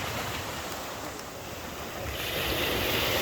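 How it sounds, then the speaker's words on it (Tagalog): Rough, choppy sea waves surging with strong wind buffeting the microphone, a loud continuous broadband roar that swells slightly toward the end, with no voices. "Maalon pa rin!"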